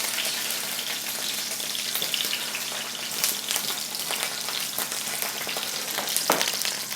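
Sausages sizzle and spit steadily in hot tins for toad in the hole, a dense, even crackle of frying fat with occasional sharper pops and no talk.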